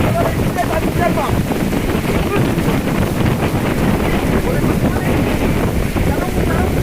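Very strong wind in North Napa during a storm with rain hitting a hut. It makes a loud, continuous roar that buffets the microphone throughout.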